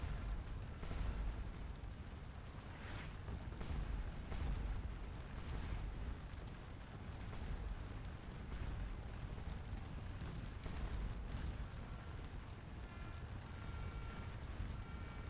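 Massed musket volleys fired into infantry squares in the Napoleonic battle game Scourge of War: Waterloo, a continuous rolling roar of distant gunfire and booming blasts that swells and fades without letup.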